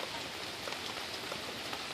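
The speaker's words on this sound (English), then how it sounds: "Raining out there today." Steady autumn rain falls outdoors in a continuous, even patter of drops on surfaces, with no voices.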